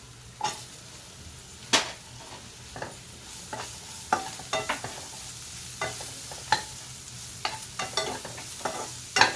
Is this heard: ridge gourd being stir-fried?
yes